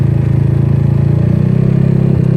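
A GY6 scooter engine idles steadily up close, its loud, even pulsing putter running without change throughout; no talking.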